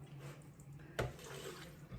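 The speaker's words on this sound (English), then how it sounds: "I'm actually going to put water in this little food processor, mix that all up" Water pours steadily into a small food processor, a soft continuous splash with one brief louder clunk midway.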